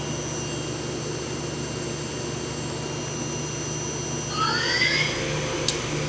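A 2008 Doosan Puma 2000SY multi-axis CNC turning center spindle runs with a steady machine hum and faint whine, then rising tones ramp up near the end as the speed climbs, with no speech.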